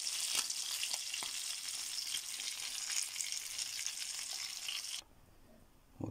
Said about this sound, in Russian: по 3 минутки обжарили с двух сторон